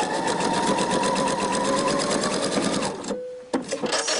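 A sewing machine runs steadily for about three seconds, stitching a seam on a homemade T-shirt, then stops abruptly, followed by a couple of brief clicks and handling noises.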